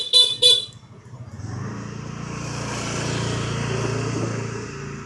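Two short, loud motorbike and car horn toots sound up close in Hanoi, Vietnam, followed by a steady rumble of passing engines and dense street traffic.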